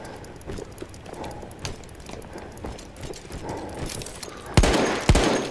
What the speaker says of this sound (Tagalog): Baril na naman.